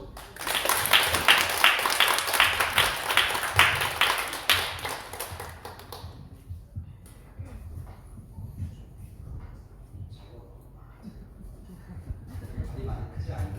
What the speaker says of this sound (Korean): 목사님 나오실 때에 큰 박수로 맞이해 주시기를 바라겠습니다